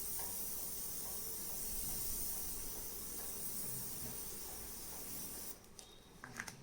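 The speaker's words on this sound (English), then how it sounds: "You can gently spray on it so your color will not get spread to another page." A fine spray can hisses in one long continuous burst for several seconds, then stops, leaving faint clicks and handling sounds.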